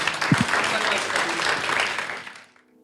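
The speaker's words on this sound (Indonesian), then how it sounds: "Tepuk tangan dong buat Tuhan." A church congregation applauds, a dense burst of clapping with a brief voice near the start, then fading out toward the end.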